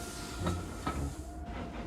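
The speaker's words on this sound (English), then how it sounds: "Meanwhile, James puffed along his route" A steam locomotive runs along the track, giving soft rhythmic puffs and hiss over a steady rumble, with faint clickety-clack close by.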